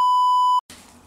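A single loud, pure censorship beep holds steady for about half a second, then cuts off abruptly into quiet background noise.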